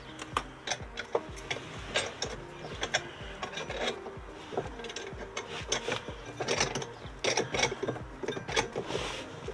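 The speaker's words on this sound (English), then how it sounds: "you want to remove this nut and then remove the bracket" A nut is worked off the battery bracket of a Peugeot Boxer van, close, irregular clicking, ratcheting and metallic scraping in uneven bursts with no speech.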